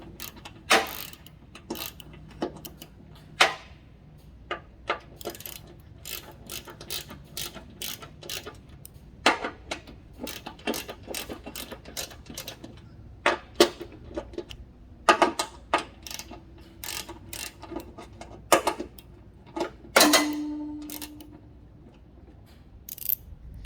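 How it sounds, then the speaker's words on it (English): A hand ratchet tightening spindle bolts on a Cub Cadet LTX 1050 riding mower deck, with bursts of quick clicking strokes separated by pauses, close and alone. "Now when you're tightening the bolts, alternate them."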